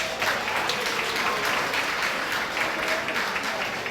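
Sustained round of applause from an audience at a fundraising gala, dense and steady throughout, loud and close with no talk over it.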